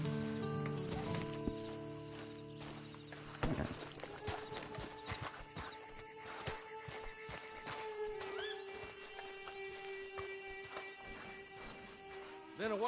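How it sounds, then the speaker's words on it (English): Horse hooves clip-clop in Red Dead Redemption 2 beneath a musical score and characters talking, a soft rhythmic trotting that continues through the passage. "Then you better get on this horse."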